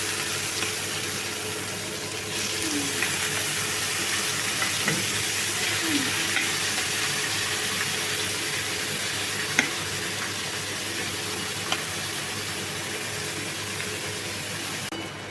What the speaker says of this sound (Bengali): এবার আমি সব কিছু ভালোভাবে ভেজে নেব।